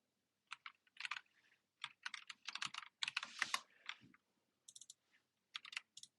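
Fingers type on a computer keyboard while writing Rust code, quick close bursts of clicking keystrokes separated by short pauses.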